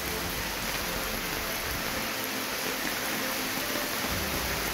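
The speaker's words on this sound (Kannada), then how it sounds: "ಯಾದಗಿರಿ ಜಿಲ್ಲೆಯಾದ್ಯಂತ ಧಾರಾಕಾರ ಮಳೆಯಾಗ್ತಿದೆ" Heavy, steady rain falls across Yadgir district during a downpour that floods fields and homes, a dense, unbroken hiss with no pauses.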